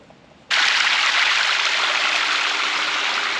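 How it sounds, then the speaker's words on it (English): Water rushes through a farm irrigation channel among saffron fields in Taliouine, Morocco, a sudden bright, steady gush that starts abruptly and stays loud and close, with no speech. "How good the water flows through here to feed"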